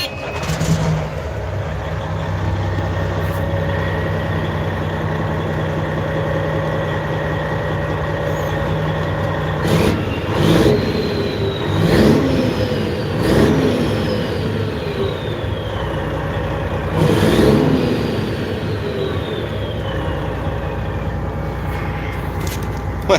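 A newly installed bunk heater in a semi truck sleeper runs with a steady, continuous hum and whir, with a few brief louder bumps and rising whines partway through.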